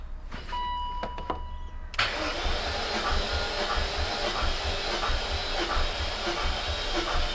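A BMW E39 M5's S62 V8 cranks over on the starter during a compression test, a steady, loud mechanical churning that kicks in after a quieter opening and keeps going without catching.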